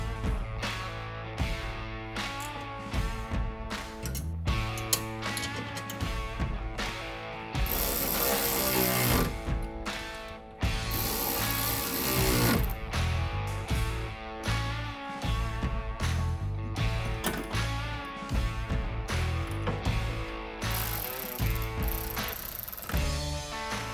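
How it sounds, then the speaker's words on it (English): A ShovelTech shovel being fitted onto a 2024 Ram's bedside rack with a pair of QuickFist riser mounts, bringing repeated close ratcheting clicks and metallic clunks in uneven bursts. "I'm gonna get my ShovelTech shovel mounted something like this using a pair of our QuickFist riser mounts"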